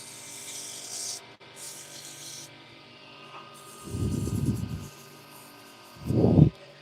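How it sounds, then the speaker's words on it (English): Sandpaper rubbing painted wood by hand, a faint hiss early on, then two louder low scrubbing bursts, one sustained for under a second and a shorter, sharper one near the end. "Easiest way to get the paint off, sandpaper."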